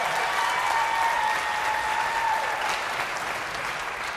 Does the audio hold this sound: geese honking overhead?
no